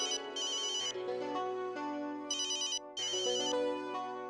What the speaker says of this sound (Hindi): जेठा का फोन है।